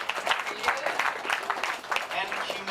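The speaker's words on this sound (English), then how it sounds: "Let's just clap for stupidity," Audience clapping at a comedy-style live show, a short burst of moderately loud applause from a small room crowd with voices mixed in.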